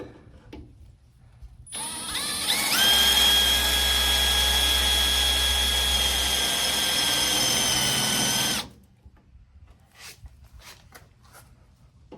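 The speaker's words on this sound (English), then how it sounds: "make sure that your drill is kind of going with the angle of your transom" A power drill bores a hole through a boat transom, a loud, close, steady high whine that starts abruptly, holds for about seven seconds under load, then cuts off.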